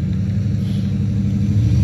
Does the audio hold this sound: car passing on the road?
yes